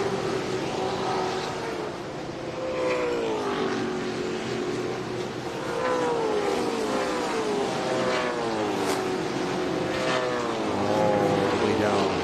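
A Trans Am TA2 race car driving down the long pit lane at Road America, its engine note rising and falling loudly under a commentator's voice, with other engines in the background.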